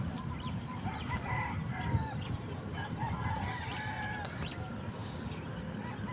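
Chickens on a farm cluck in a continuous low chatter, with a few higher calls and crowing-like cries rising above it. The flock sounds moderately close under a steady background hum.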